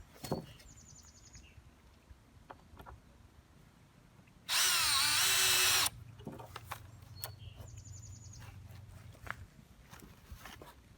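A power drill whirs in one loud burst of about a second and a half as a 3-inch screw is driven into the top of a floating dock's wooden frame, with footsteps, light knocks and outdoor birds around it.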